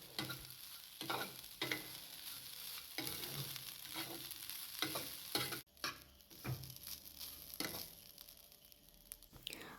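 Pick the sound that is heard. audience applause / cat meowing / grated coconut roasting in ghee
grated coconut roasting in ghee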